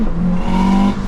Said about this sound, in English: Boom! Second gear downshift, watch this.